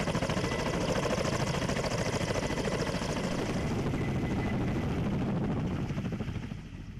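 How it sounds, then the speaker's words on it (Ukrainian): A Ukrainian Navy naval aviation helicopter flies during a training exercise near Odesa, its loud rotor chop and engine roar steady and close for several seconds before easing slightly at the end. "Залучався вертоліт морської авіації українських військово-морських сил."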